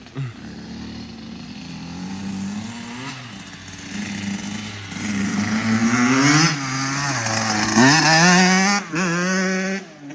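A KX85 dirt bike engine revs repeatedly, each loud, buzzing blip rising and falling in pitch and the revs climbing higher toward the end, close by with no talking.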